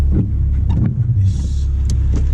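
Inside a purpose-built, road-legal Porsche Cayman S 987 cruising relaxed around town, a steady, deep engine and road rumble drones continuously at close range, with faint higher rattles and no revving.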